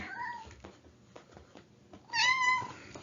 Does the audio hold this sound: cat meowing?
yes